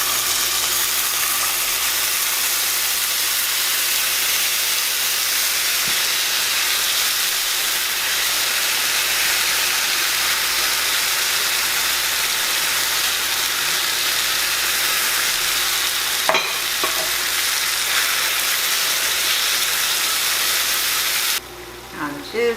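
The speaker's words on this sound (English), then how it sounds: "Okay, I'm going to put the taco meat in now." Taco meat frying in a pan for a ravioli taco bake gives a steady, loud broadband sizzle and hiss that continues throughout, with a brief clatter near the end and no talking.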